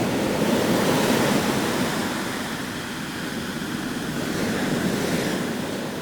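Sea waves roll in at Shankumugham beach in Trivandrum, a loud continuous wash of surf with gusts of wind, swelling and easing slightly but never pausing.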